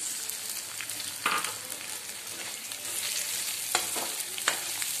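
Fried onions sizzle steadily in a hot pan while being stirred, a constant crackling hiss broken by a few sharper scrapes and taps of the spoon against the pan.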